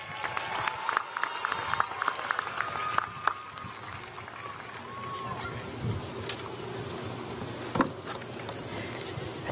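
Outdoor applause for graduating scholars at a university spring commencement, a broad wash of distant clapping from a spread-out crowd, with a few sharper claps and faint background noise.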